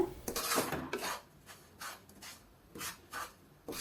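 Spoon stirring and scraping a nut candy mixture through ghee in a pan, rasping strokes repeating in an uneven rhythm, close and fairly loud with short pauses between.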